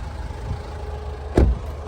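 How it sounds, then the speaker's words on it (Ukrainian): A 2014 Kia Sorento facelift idles with its engine running, a low steady rumble close by, with one short louder thump partway through. "Машина заведена."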